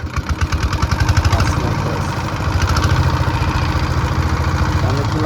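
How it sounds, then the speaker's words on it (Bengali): The engine of a fishing trawler boat runs at night, a steady chugging idle with a rapid rhythmic pulse, close and loud throughout. "আমরা রাতে ট্রলার স্টার দিয়ে"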